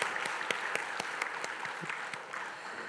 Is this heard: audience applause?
yes